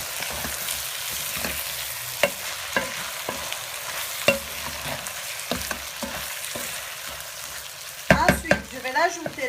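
Rice with meat and sauce being stirred in a pot for pilau, a steady low sizzle broken by scattered scraping stir strokes and a louder clatter near the end.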